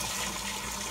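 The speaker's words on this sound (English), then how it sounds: "I wash my black eyed peas." Black-eyed peas being washed in a pot of cold water, a brief close wash of running, sloshing water with no talk over it.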